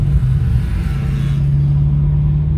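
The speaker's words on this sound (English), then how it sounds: "I would say that the exhaust system that's on here, I would say it's probably barely louder than stock" Steady low engine and exhaust drone from a 2016 Chevy SS with an American Racing header-back exhaust, running near stock volume while driving, a continuous even hum without revving.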